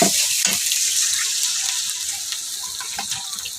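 Water poured onto frying spice paste in a pan, a loud rushing hiss and sizzle right at the start that slowly fades, with a few stirring clinks, close by and no talking.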